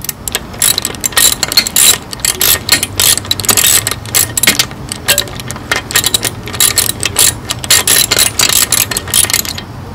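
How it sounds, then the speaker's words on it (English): Close, loud ratchet clicking in fast bursts as a 12mm socket loosens three bolts on the head mount of a Suzuki RM 250 motorcycle engine, with short metallic taps between strokes and no speech. "get the 12mm wrench and the 12mm socket with the ratchet and take off these three bolts right here"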